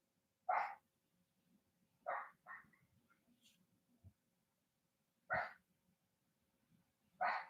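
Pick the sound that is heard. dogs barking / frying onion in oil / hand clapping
dogs barking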